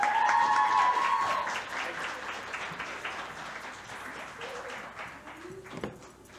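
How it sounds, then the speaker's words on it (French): Audience applause fills a lecture hall at a psychology talk, a dense burst of clapping loudest at the start and thinning gradually over several seconds, with some faint chatter near the end. "applaudissez-la chaleureusement"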